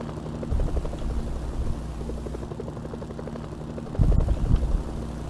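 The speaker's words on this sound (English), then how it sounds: "What are my helicopters still here?" Helicopters in the video game Mercenaries drone steadily with a low rotor thrum. The sound holds throughout and swells slightly near the end.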